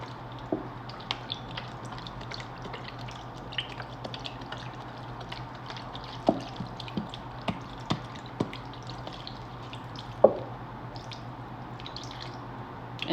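Chicken stock is poured over crackers for an oyster dressing, giving faint, scattered drips and soft wet splashes against a quiet hum, with one brighter splash near the end.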